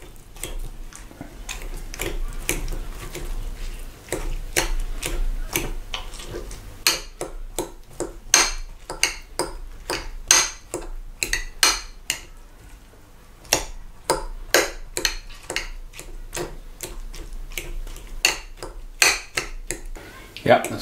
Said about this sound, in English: First thing I start to do is to mash the strawberries.